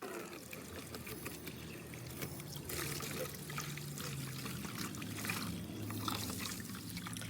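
Rusty water left from rinsing fabric poured out outdoors, a steady trickling splash that swells slightly partway through and runs continuously without talk.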